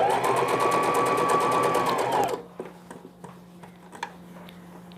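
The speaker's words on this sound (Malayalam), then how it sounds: "ഫുള്ള് ഇതേപോലെ സ്റ്റിച്ച് ചെയ്യാം." Sewing machine stitching piping on a baby frock: a loud, steady motor whir with rapid needle ticking runs close for over two seconds, then stops, leaving faint clicks and handling noises.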